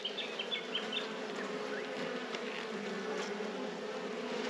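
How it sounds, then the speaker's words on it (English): A close, steady hum of many honeybees buzzing together on a hive frame, a continuous droning with a few brief higher whines passing near. "So bees on the outside frame, and there's a fair bit of weight in there."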